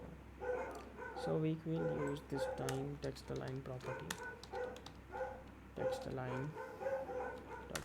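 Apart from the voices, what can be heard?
dogs barking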